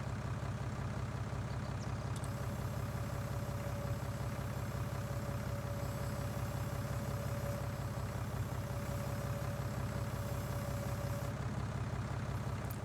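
Tractor engine in Farming Simulator 19, a steady low droning idle-like hum running continuously with a faint high whine layered over most of it, fairly quiet throughout.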